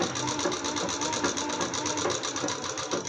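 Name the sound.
sewing machine stitching salwar panels together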